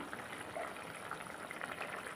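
Soft, steady bubbling of a tamarind curry with turkey berries simmering in a pot, with faint pops and gurgles, quiet and continuous with no talking.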